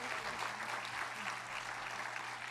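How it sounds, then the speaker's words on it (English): Steady audience applause at an education awards ceremony, a dense even wash of clapping from a crowd honoring school award recipients, with no break. "we can give them a big round of applause"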